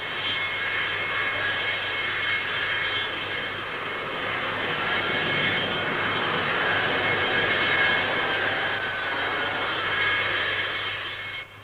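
A Blackburn NA-39 Buccaneer naval strike jet passes at a 1960s Farnborough airshow, a loud, steady engine roar that swells and holds for about twelve seconds, then begins to drop away near the end.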